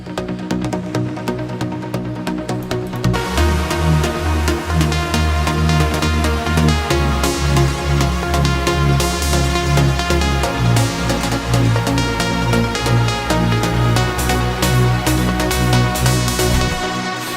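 Trance track break in which dense layered synths swell as their low end returns a few seconds in, continuing as steady, sustained chords without kick or bass, loud and with no talk.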